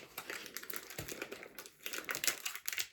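Crinkly plastic snack packaging from a Brazilian snack box is worked open by hand, with continuous close, faint crackling and rustling and a few sharper crunches as the seal resists.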